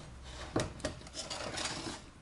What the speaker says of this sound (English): swap pots.